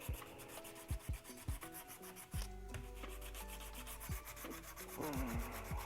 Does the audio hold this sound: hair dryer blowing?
no